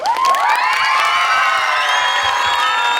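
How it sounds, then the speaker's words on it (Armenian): A concert audience cheers and shouts loudly and continuously, with whoops and high voices, close and steady for the whole stretch with little sign of distinct clapping. "հիմա խնդրում եմ բոլորին ծափերի միջոցով ձեր էմոցիաները արտահայտենք"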